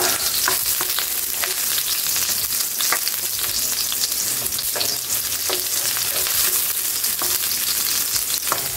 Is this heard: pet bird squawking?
no